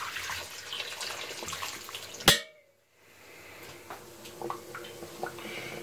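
Warm tap water runs and splashes over a rugged myPhone Hammer Iron 2 smartphone, a soft hissing flow broken by a sharp clatter and brief silence before the trickling resumes.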